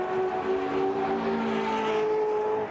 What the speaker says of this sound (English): You're going to hear the V8 engine thumping, and there they go. Listen to that.